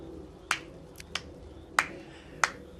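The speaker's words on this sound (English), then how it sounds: "I hope everybody can hear you doing the slow clap." A slow clap in the background of a League of Legends match broadcast: four or five sharp, spaced claps, fairly faint and even in rhythm, with no speech over them.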